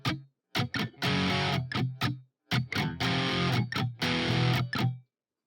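Distorted electric guitar power chords from a song, played loud in choppy bursts with percussive muted strums between the ringing chords and short gaps of silence.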